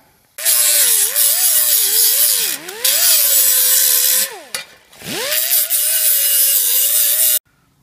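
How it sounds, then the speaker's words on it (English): An air-powered deburring tool grinds against the end of a metal tube, a loud, steady high-pitched whir whose tone dips and rises as pressure changes, with a short break midway before the tool runs again and then stops. "now we'll just give the metal a quick deburr because we don't want to cut our hands"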